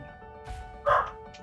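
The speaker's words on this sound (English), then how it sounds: "So there goes the dog." A dog barking indoors, with a single loud bark standing out against a low background hum and a few softer yips around it.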